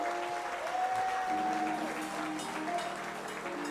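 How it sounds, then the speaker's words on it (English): Church congregation applauding young adults being recognized, a loud, steady burst of clapping over a held keyboard tone, with some voices mixed in. "we'd like you all to stand so that we can give you a round of applause"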